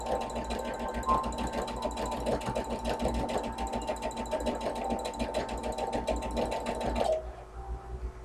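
A sewing machine stitching with a quarter-inch presser foot, a steady fast mechanical chatter heard close up that runs evenly for about seven seconds and then stops abruptly.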